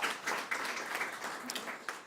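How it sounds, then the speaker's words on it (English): Graduates and guests at a BCom university graduation ceremony give a round of applause for a cum laude graduate, a faint, thin scatter of clapping with a few sharper claps standing out. "we give you an extra round of applause for reaching the milestone of cum laude"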